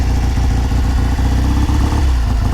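A 1969 Triumph T120R motorcycle engine idling just after a kick start, a loud, close, lumpy exhaust burble with an uneven loping rhythm and no talk.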